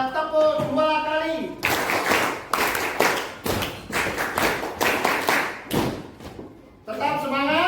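A school class claps in quick pairs of sharp hand claps, repeated several times in a room, with a teacher's voice speaking before and after.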